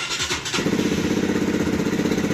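A Rusi Flash 150 motorcycle engine cranks briefly, then catches and settles into a steady, close, pulsing idle.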